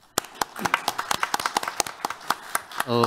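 A seminar audience claps for a professor at a Korean policy forum on vehicle exhaust emission reduction, with a steady patter of distinct hand claps from a modest crowd, then a voice begins at the end.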